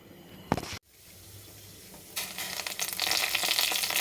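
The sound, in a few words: frying chana dal, urad dal and mustard seeds in oil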